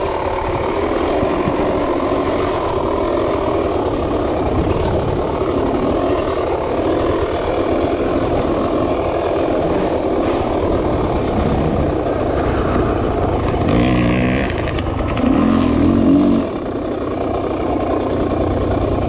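Dirt bike engine during a cross-country race, its Rekluse clutch slipping and dragging on uphills, a loud, steady drone close up that varies only slightly in pitch throughout.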